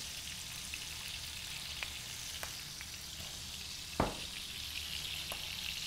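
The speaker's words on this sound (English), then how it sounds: "A balsamic vinegar. We want that to reduce, make a nice little reduction." Balsamic vinegar bubbles and reduces in a hot pan over high heat, a steady, fairly quiet sizzle broken by a single clack of a utensil near the middle.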